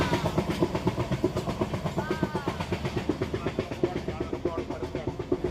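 An AC passenger train rolls along the tracks in Maharashtra with a steady rhythmic clickety-clack of wheels over rail joints, loud and close, with a faint squeal partway through.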